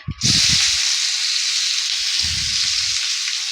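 Chopped onion drops into hot oil with bay leaves and nigella seeds and sets off a loud, close, steady sizzle that runs unbroken, while a voice talks briefly over it at the start and again near the end.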